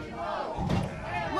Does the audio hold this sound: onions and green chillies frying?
no